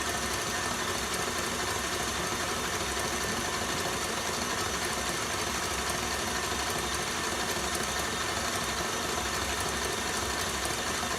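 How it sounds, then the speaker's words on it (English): A stand mixer whipping Swiss meringue for buttercream, a dense continuous motor whir with a steady rhythmic churn, loud and unbroken from start to finish, no voices. "While that's whipping, I'm just going to chop the butter into small inch cubes."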